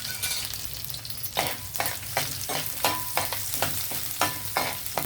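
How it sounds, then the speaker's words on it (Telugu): Cumin seeds, mustard seeds and dried red chillies hit hot oil where garlic is already frying for a beans and tomato fry, giving a steady close sizzle broken by repeated scraping stirs in a wide pan. "అవి వేగేటప్పుడే జీలకర్ర ఆవాలు వేద్దాం. అలాగే ఎండుమిర్చి కూడా వేసేద్దాం."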